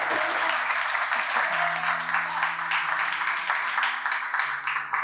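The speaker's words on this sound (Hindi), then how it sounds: "मेरे लिए थोड़ी तालियां बजा दो यारों" An audience at a poetry event in Jalandhar applauds with dense, steady clapping that lasts the whole stretch, close and continuous.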